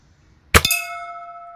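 A BB fired from a Haenel Model 310 4.4 mm gun strikes a metal gong target: one sharp clang followed by a clear ringing tone that fades slowly, close and loud in a quiet setting.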